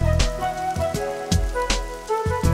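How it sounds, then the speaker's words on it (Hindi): Rain falling on a surface, with a dense patter and a few sharp drop hits at irregular moments, close and fairly loud with no talk. "बारिश हो रही है"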